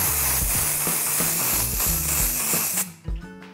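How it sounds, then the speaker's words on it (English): A continuous hissing aerosol of silver shimmer spray on a Christmas cake runs for several seconds, close up, with music playing underneath, then cuts off near the end. "we're going to finish it with a touch of silver shimmer spray"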